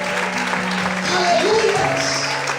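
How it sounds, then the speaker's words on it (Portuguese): A church congregation claps together in a dense, steady patter, while sustained organ or keyboard tones and a voice carry on underneath. "Todos podem aplaudir e exaltar ao Senhor essa noite."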